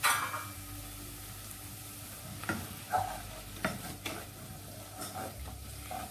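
Onion and flour frying in a pot are stirred, giving a steady close sizzle broken by louder scraping strokes of the spoon against the pot.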